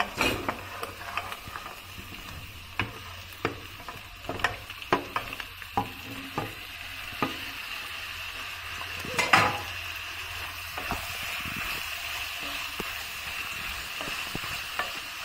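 Chopped peppers and tomatoes frying in a pan for a Turkish cauliflower musakka, with a steady sizzle broken by spoon scrapes, stirring clinks and one louder clatter midway.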